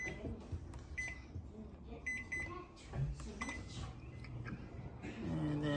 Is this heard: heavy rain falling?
no